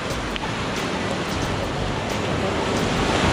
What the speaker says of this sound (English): We're down at the beach.